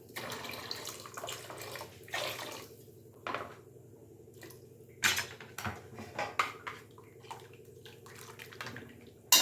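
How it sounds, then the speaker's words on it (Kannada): Water is poured into an egg curry masala in a cooking pot, a soft trickle and splash with scattered light clinks of a utensil against metal, quiet and close. "ಇನ್ನೊಂದು ಸ್ವಲ್ಪ ನೀರು ಹಾಕ್ತಿದ್ದೀನಿ."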